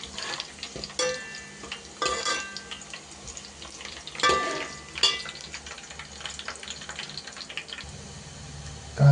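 Onions frying slowly in a pan at home, with a steady soft sizzle and scattered light ticks and clinks of a utensil stirring throughout.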